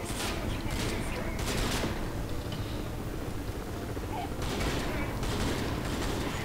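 Dense, continuous bursts of gunfire in the video game Crysis 3 fill the clip, with rapid overlapping shots at a steady loud level throughout.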